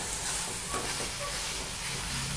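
Asafoetida (hing) roasts in hot oil in a pan, a brief, even, close sizzle with faint stirring.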